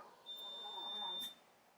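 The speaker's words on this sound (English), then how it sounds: "I'm getting so distracted because that beep" A thin electronic beeper chirps faintly once inside a house, a single short tone heard quietly at a distance.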